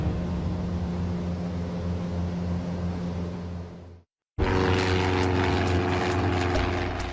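Propeller aircraft flying near Oksibil Airport in Indonesia's mountains, a steady loud droning engine hum that cuts out briefly and then resumes just as strong.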